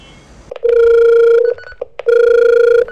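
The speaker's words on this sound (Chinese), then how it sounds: "家里电话响了" A home landline telephone rings twice, each a loud, close electronic trill lasting about a second, separated by a short pause.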